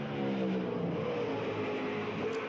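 A Grand Touring race car at the SCCA Runoffs drives through a kink, its engine note loud and close, holding a steady drone with a slight lift in pitch and no pause across the whole span.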